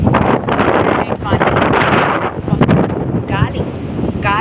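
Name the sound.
wind blowing into the microphone outdoors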